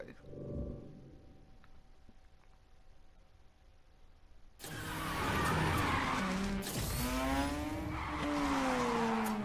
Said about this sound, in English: let's get into this good old-fashioned drifting scene, and let's get started. Let's slide.